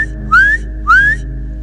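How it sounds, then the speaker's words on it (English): Two clear rising whistles sound out in the woods, evenly spaced and loud, over a low steady hum. "something would whistle back."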